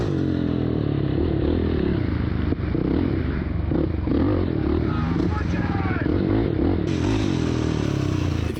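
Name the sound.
racing quad ATV engine on muddy track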